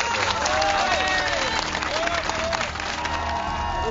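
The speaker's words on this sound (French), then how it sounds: "Vous pouvez vous applaudir très très fort," An audience applauds and cheers loudly and steadily throughout, while voices call out over the clapping.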